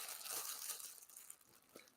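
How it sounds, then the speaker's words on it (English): Crunchy, crinkly bites and tearing of oily focaccia bread, close and fairly quiet, in a short burst with no talking. "It's focaccia, man. It's really good"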